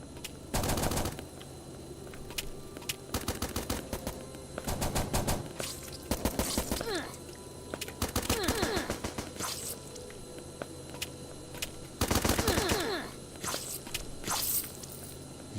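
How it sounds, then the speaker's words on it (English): Sniper rifle fire in the video game Starbound comes as repeated short bursts of sharp, rapid shots. Quieter pauses separate the bursts, which are spread across the whole stretch. "World's shittiest sniper rifle."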